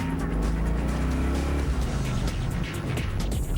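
A classic Pontiac muscle car roars with a steady, loud engine note and tire squeal, the sound continuous and close throughout.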